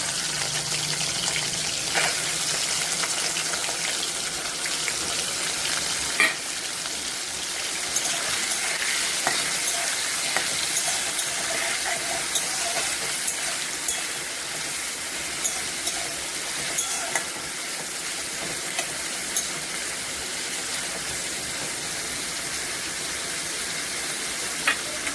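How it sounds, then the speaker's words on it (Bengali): Prawns frying in hot oil with cumin seeds give a steady, dense sizzle close by, with occasional sharp pops and spatula taps running through the whole stretch at an even level. "চিংড়ি মাছটা অল্প একটু ভেজেছি"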